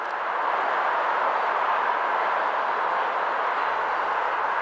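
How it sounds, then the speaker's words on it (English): BNSF freight train led by two C44-9W diesel locomotives rolling past on Colorado's Joint Line near Larkspur, a steady, loud, broad rumbling roar that holds evenly throughout, with no voices. "Both engines on the point of this train are C44-9Ws."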